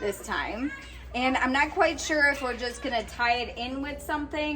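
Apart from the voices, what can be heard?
No distinct noise like a dog, phone or traffic.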